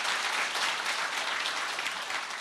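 Audience applause fills the hall at a Korean lifelong-education alliance launch ceremony, steady dense clapping from a crowd throughout, loud and sustained with no talk over it.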